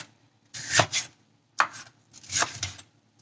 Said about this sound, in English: cutting it with the slippery side down gives you a better grip with the knife